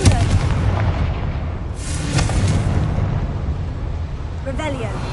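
A Confringo fire spell bursts in the Hogwarts Legacy video game, a loud boom and rumbling blast that rolls on under continuous game noise and background talk, with a second crackling burst near the end.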